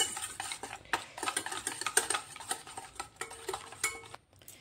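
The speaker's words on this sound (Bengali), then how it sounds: "তো এখন আমি গুঁড়ো চিনি আর এই যে ডিমটাকে ভালোভাবে মিশিয়ে নিচ্ছি।" Egg and powdered sugar are whisked by hand in a bowl, giving quick repeated scraping and clinking strokes of a utensil against the bowl, close and fairly crisp, with no talking.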